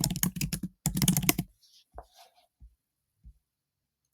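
Quick bursts of typing on a computer keyboard while entering a name, a dense run of clacking keys for about a second and a half, followed by a few isolated soft taps spaced apart.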